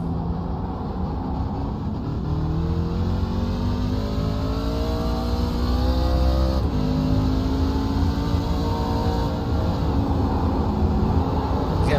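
A race car engine and its wheels in a sim racing game on the Daytona Road Course, a loud, continuous engine drone whose pitch climbs and settles through gear changes, with no one talking.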